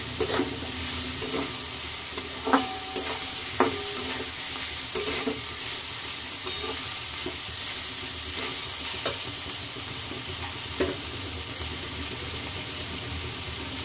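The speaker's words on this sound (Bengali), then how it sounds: "এবার আমি এর মধ্যে চিকেনটাও অ্যাড করে দিলাম।" Chicken stir-fried in a pan with noodles for chow mein, a steady close sizzle under repeated scraping and clinking of a utensil against the pan, with no talking.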